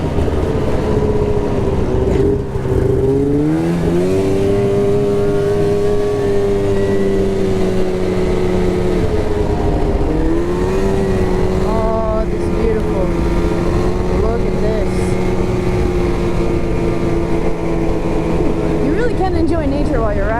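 A snowmobile engine drones steadily and loudly while riding a trail in New Hampshire, pitch rising and falling with throttle changes, with heavy wind rush over the microphone throughout.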